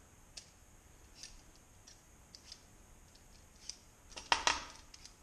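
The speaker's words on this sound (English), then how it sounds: "This work is quite productive, so just keep cutting." Knife cutting filet mignon in a kitchen, a few faint scattered clicks and taps across a quiet background, then a brief louder cluster of sharp clicking sounds near the end.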